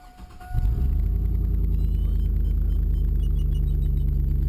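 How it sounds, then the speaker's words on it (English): A 2002 GMC Yukon XL with the 5.3L flex-fuel engine cranks and fires after a quiet fuel pump whine, then settles into a loud, steady idle rumble close by. "You go to start the Yukon, let the fuel pump cycle for a minute."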